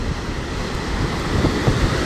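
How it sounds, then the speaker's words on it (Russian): Stormy sea at Sochi with strong wind, a steady roar of wind buffeting the microphone over rolling surf and crashing waves, continuous and loud throughout. "Здесь очень сильный ветер и на море серьезный шторм."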